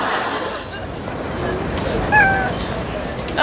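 A cat meows twice in a domestic setting, a short rising cry midway and another at the end, heard over steady background chatter and room noise.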